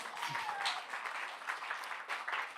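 Audience applauding at a gala charity event, a steady wash of clapping that stays fairly even and moderately loud across the whole stretch, with a faint voice or tone drifting underneath.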